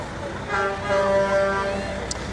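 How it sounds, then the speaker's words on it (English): A city dump truck honks as it passes in a holiday home-for-the-holidays parade in International Falls, a sustained horn tone over steady street and crowd noise. "And I believe that's our last city dump truck."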